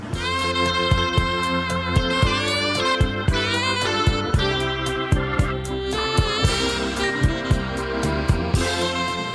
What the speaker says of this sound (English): It's got some mean 80s sitcom sax going on.